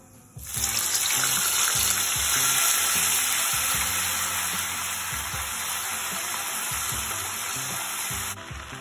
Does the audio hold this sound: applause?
no